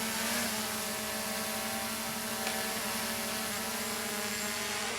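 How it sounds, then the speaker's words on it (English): A small unmanned aircraft drone flies out and back during a practical flight demonstration, its steady buzzing motor drone continuous and fairly loud with no speech. "There I'm dispatching the drone out. I'm bringing the drone back to me."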